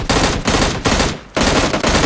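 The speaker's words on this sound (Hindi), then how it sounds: "बंदे, गाड़ी और सज्जन पुरुष सब पे गोलियां चलाई जाती हैं।" Gunfire in the battle royale video game PUBG: loud, close bursts of rapid automatic fire, four dense volleys separated by brief pauses, with no talk over them.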